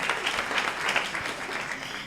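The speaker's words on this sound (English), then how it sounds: "round of applause" Steady audience applause at an awards gala, a dense wash of many hands clapping throughout with no pauses.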